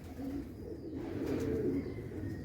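Soft, low pigeon coos repeat in a gentle rolling rhythm close by, with faint background hiss.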